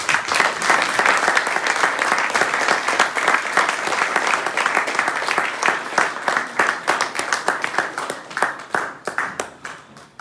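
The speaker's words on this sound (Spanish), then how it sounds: "Den un aplauso al Señor." A church congregation at a wedding service applauds loudly and continuously for about ten seconds, a dense wash of many hands with sharper individual claps rising through it late on, close and full.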